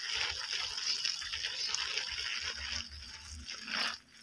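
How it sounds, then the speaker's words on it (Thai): Salad vegetables are watered in a garden bed, a steady splashing and hiss of spraying water with soft crunching rustles, fairly close and continuous before tapering off at the end. "ใส่เรียบร้อยแล้วก็ลดน้ำ"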